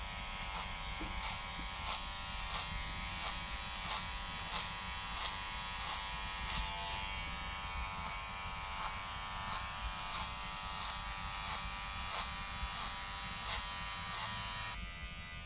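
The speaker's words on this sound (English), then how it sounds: "I personally like to clipper over comb like this" Electric hair clippers buzz close up, worked clipper-over-comb through hair during a skin fade, with a steady hum broken by quick, regular bursts from short strokes.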